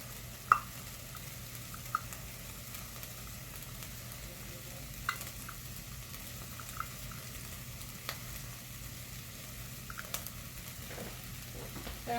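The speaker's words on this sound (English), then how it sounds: "we're going to go ahead and stir that in for about a minute till it's fragrant" Drained canned green chilies frying in a pan and being stirred, giving a steady low sizzle with a few sharp spoon clicks against the pan scattered throughout, with no talking.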